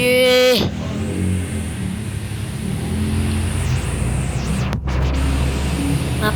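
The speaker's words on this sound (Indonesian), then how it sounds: "Maaf suara mobil." A car engine drones steadily nearby with a mid-range hum and a slight swell in revs, preceded by a brief tonal electronic sound at the start.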